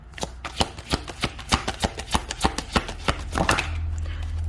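Tarot cards are shuffled and pulled in a rapid run of crisp riffling snaps, close and clear, followed by a short steady rustle at the end.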